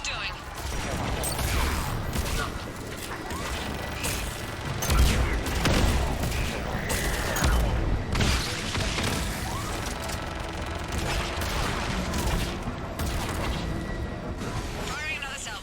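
Missile salvo fired in the Mass Effect game: a dense, continuous roar of launches and rumbling blasts, with heavier booms around the middle, all loud and close and packed tightly together.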